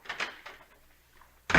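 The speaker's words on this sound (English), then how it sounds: "I'll open the front door and I'll come in again." A front door is opened in a radio comedy scene, with a few muffled knocks and rattles, a quiet pause, then a sudden loud bang at the end.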